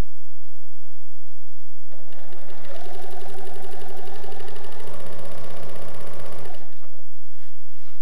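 A Pfaff sewing machine with a darning foot runs a free-motion stitching burst, a loud, rapid mechanical whir with even stitch pulses that starts up, holds for about five seconds, then stops.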